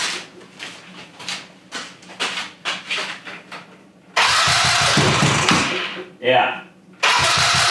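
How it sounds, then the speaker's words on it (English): A go-kart engine is cranked by its starter, first in a series of short puttering turns, then catching in loud, close bursts with a brief stop between; a voice speaks briefly. "Let's try to start it one more time."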